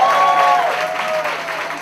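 Applause from an audience in a small Istanbul music venue fills the moment, steady and fairly loud, with a singing or speaking voice running over it.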